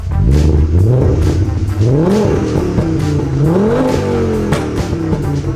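A Mk2 VW Golf GTI swapped to a five-cylinder engine is revved hard several times close up, each loud rising blip followed by a falling idle, the pulses stepping up in pitch one after another.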